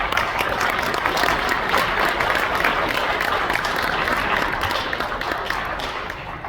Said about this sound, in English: Would you give your parents and your families a round of applause?